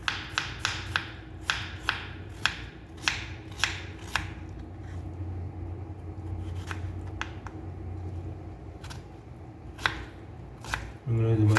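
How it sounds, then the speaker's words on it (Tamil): Vegetables being chopped into small pieces, with crisp knife strikes landing close in quick rhythmic bursts, thinning to scattered taps over a faint background hum, then a brief louder rustle at the end. "சின்ன சின்னதாக கட் பண்ணிக்கிட்டாலும் ஓகே, கொஞ்சம் சின்னதாகவே கட் பண்ணிக்கணும் நண்பா."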